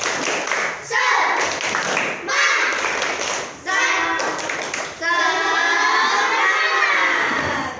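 A group of schoolchildren performs the tepuk semangat clapping chant, rhythmic bursts of clapping alternating with loud chanted shouts in unison, energetic and close.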